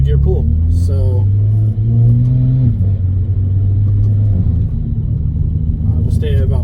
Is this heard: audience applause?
no